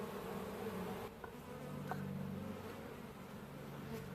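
A honeybee swarm buzzing around a hive where some bees are fighting, a steady dense hum that is close and continuous and carries no speech.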